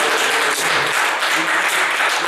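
A crowd at a church seminar applauds, a dense, loud wash of clapping that continues without a break for a couple of seconds.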